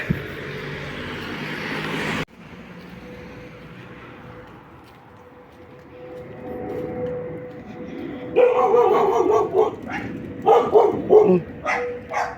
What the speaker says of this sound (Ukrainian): навіть собачка на мене гавкає в дворі тут собачки